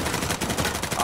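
Rapid, dense gunfire from Uncharted 4 multiplayer fills the whole moment, loud and close, its bursts running together with no pauses.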